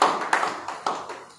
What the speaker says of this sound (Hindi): गुरुदेव के लिए एक बार तालियां बजाएं।